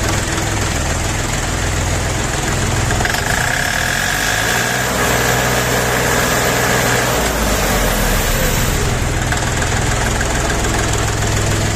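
A KM385 diesel engine on a mini tractor idles steadily with a constant low rumble and mechanical knocking, loud and close, with no talk.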